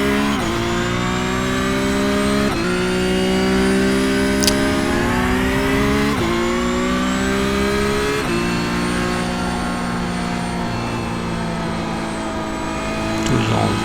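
A Porsche Cup race car engine in the iRacing game at Road America drones loud and steady, rising in pitch through gears with several sharp shift breaks, accelerating out of corners.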